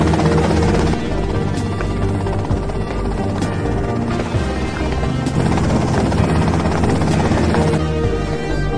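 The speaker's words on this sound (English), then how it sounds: "that's them in the chopper" A helicopter in the video game GTA Vice City drones loudly and steadily throughout, its rotor and engine buzz holding close and constant with no speech.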